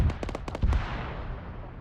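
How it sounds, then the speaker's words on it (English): Mortar shells bursting in the Arma 3 military game, a quick cluster of about six sharp booming cracks within the first second, then a fading rumbling tail and no voices. "They really need to move, because more mortars are coming."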